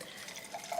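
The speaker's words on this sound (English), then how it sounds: "first of all, you fill water inside." Water trickles briefly and faintly into an ultrasonic atomiser diffuser, a short quiet pour with a light liquid splash, heard alone.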